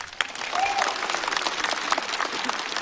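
A studio audience at a live stand-up comedy show bursts into sustained applause, a dense wash of clapping at moderate volume with a faint whistle near the start.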